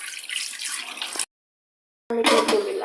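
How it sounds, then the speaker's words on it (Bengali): Water pours into a pot of beef mixed with ginger, garlic, cumin, turmeric, chili, garam masala and oil, a steady splashing stream heard twice, broken by a short silent gap. "একটু পানি দিয়ে দেব"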